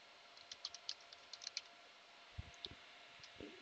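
Faint, sparse keystrokes on a computer keyboard as a command is typed into a CentOS 7 server terminal while installing Redis, followed by a couple of slightly firmer key presses.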